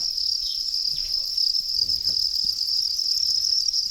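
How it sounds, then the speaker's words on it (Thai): Copper crickets chirp in a steady, high-pitched continuous trill, close and fairly loud, with faint low rustling beneath and no voices. "จิ้งหรีดพันทองแดง"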